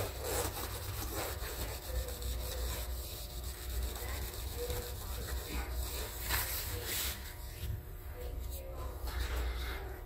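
Plastic scraping and prying on a grimy laptop bezel coated in nicotine and gunk, a continuous rough rubbing and scratching that runs close and steady throughout with no talk.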